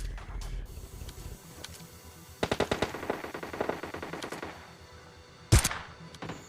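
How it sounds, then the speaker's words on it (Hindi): Gunfire in PUBG Lite, an AWM sniper rifle shot landing on an enemy's head amid a full-rush match: a rapid string of sharp game gunshots in the middle, with one loud crack near the end, close and dry. "देखो भाई यहाँ पे AWM का क्या ही शॉट रखा जाएगा बंदे के सिर पे"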